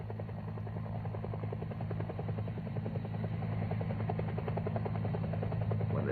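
A military helicopter hovering steadily during a McGuire rig extraction, with a loud, continuous rotor thrum and engine buzz that holds constant and close throughout.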